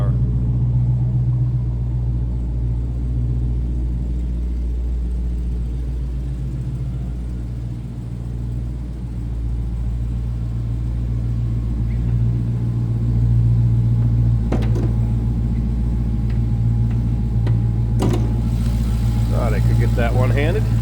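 A 2022 Dodge Challenger SRT Hellcat idles with a deep, steady exhaust rumble, loud and close, holding a constant throb with brief faint clicks near the end and no revving.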